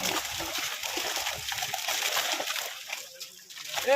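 A fishing net splashing and sloshing through the water of a village pond, broadband wet splatter running steadily with a few louder bursts, while people talk over it.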